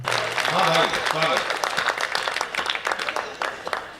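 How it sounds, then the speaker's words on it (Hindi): Audience clapping at a Hindi comic poetry gathering, a burst of hand claps following a brief voice at the start, then thinning into scattered, uneven claps toward the end. "एक बार बढ़िया ताली बजाई"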